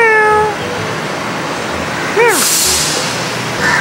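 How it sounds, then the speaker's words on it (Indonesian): A cat met in a cold spot gives a single short, close meow, preceded by a brief voiced tone and set against a low rumble of background noise. "Okay guys, aku jumpa kucing."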